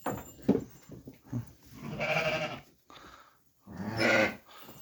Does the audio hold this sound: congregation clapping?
no